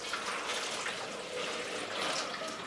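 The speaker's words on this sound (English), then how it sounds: "We'll put the water in the bucket first." Water poured into a bucket for mixing fine casting plaster, a steady broadband rushing and splashing that holds at an even, fairly loud level from start to finish with no talk.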